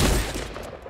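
A shotgun fires in the video game Fortnite, a single loud, sharp blast at the very start that decays quickly into a noisy tail, close and with no talk.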